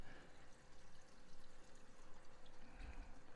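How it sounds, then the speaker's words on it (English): In a six-foot mixed reef tank, water falls down the overflow pipe and strikes a 90-degree elbow, making a very faint, continuous trickling pour with a soft low splash near the end. "I'm hearing water come straight down the pipe right here and hitting the 90"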